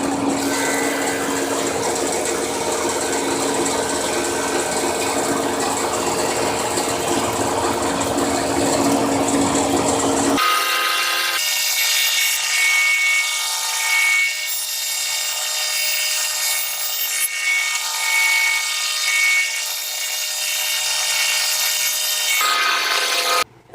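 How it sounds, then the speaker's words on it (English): Mahogany boards being machine-planed for picture frames, a loud continuous planer roar with a change in tone partway through as the cut shifts, steady to the end. "we're going to start planing them and get started working on this"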